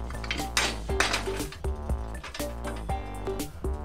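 Biscuits being flipped on the stovetop in a Guardian Service duplex utility pan, a series of close, bright metallic clanks and clinks from the pan and utensil in quick irregular rhythm, with no voices.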